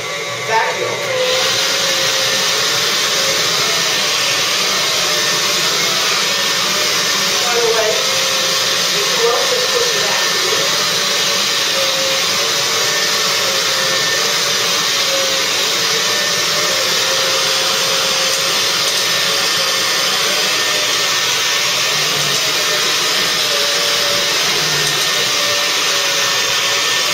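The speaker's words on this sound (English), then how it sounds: "I'm going to turn on the brushes, and I'm going to turn on the vacuum." A carpet cleaning machine runs steadily with its rotating brushes and vacuum motor both engaged, a loud continuous whine and roar starting within the first second and holding unchanged to the end.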